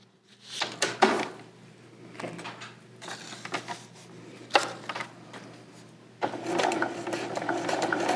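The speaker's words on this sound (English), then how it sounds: "Back to the sewing machine." Domestic sewing machine stitching pieced quilt blocks, running in several short bursts with pauses between and a longer steady run at the end, close by and alone.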